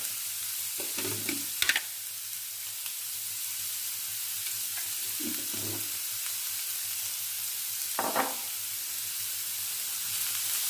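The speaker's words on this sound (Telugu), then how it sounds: "ఇది కొంచెం దోరగా వేయించుకున్నామండి" Onion with a little salt frying in a pan, a continuous close hiss of sizzling oil with a few soft stirring scrapes, no voices.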